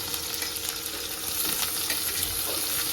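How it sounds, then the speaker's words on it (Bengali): Vegetables for chow mein, including capsicum, carrot and cabbage, hit hot oil and sauté. A dense, steady hiss of frying sizzle runs throughout at close range, and no voices are heard. "এখন আমরা ভেজিটেবলগুলো ঢেলে দেবো"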